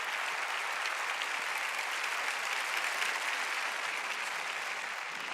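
A church congregation claps for the Lord in sustained, dense applause that stays even and steady throughout, heard alone without talk.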